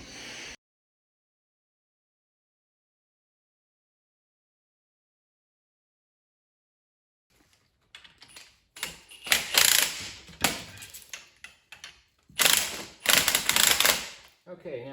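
Spring compressors on a Mustang McPherson strut being wound down by hand, a series of loud ratcheting clicks in bursts after a long stretch of silence.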